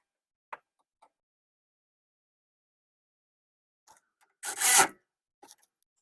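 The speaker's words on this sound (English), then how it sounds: "So we already tightening the cable terminal. You just grab a wrench and then we make sure it's tight." A ratchet wrench tightens the cable terminal on a stuck starter solenoid in a short burst of rapid clicking, preceded and followed by a few faint isolated ticks in an otherwise quiet space.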